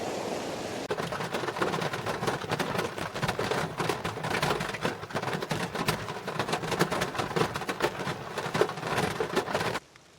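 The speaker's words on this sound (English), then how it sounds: "the rain has started again, and quite hard" Heavy rain pouring down steadily, a dense hiss with scattered close drops and patters, loud and continuous until it cuts off.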